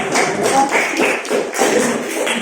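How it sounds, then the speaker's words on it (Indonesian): A room of students at a vocational high school in Jakarta gives a round of clapping, many hands patting in a dense, fairly loud burst that swells and dips in a few waves over a couple of seconds. "tepuk tangan dulu dong"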